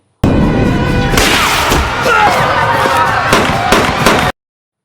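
A gunshot rings out in a film scene, a sharp loud blast followed by a dense crackling burst and several further sharp reports, ending abruptly.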